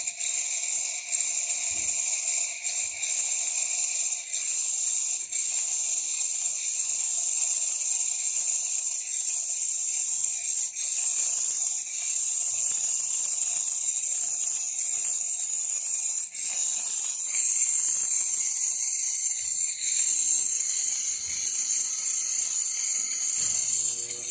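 A DeLonghi PrimaDonna S DeLuxe espresso machine's steam wand, just serviced, gives a steady, loud, high hiss that runs unbroken for the whole stretch, with faint mechanical rattles underneath and no talking.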